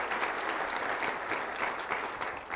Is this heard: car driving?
no